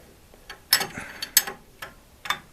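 Metallic ratcheting clicks while an aftermarket distributor with sticky threads is unscrewed from the camshaft of a 1925 Ford Model T: several sharp, close clicks in an irregular rhythm, fairly quiet.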